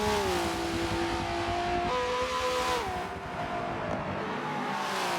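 Super 2 race cars lapping Bathurst, a continuous loud engine howl whose pitch climbs and drops in a few distinct steps as gears shift, with no voices over it.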